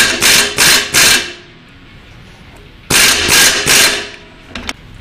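An OTC puller strains against a tapered axle hub on a Jeep, giving sharp clustered ratcheting bursts in two groups separated by a quiet pause, then a few lighter clicks.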